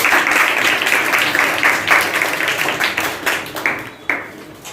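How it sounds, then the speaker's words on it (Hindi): Studio audience at a Hindi quiz show clapping loudly as a contestant heads to the hot seat, a dense burst that thins into scattered claps toward the end. "जोरदार तालियां बजाने के लिए"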